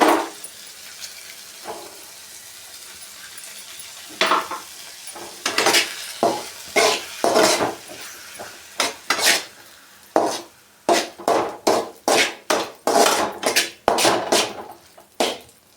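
Eggs being stir-fried in a pan until crumbly, with a spatula scraping and tapping against the pan in quick repeated strokes over a soft sizzle, the strokes growing faster and more regular.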